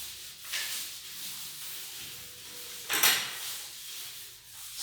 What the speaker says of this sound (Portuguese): você tem que pressionar um pouquinho o rolinho na parede para poder a tinta ir passando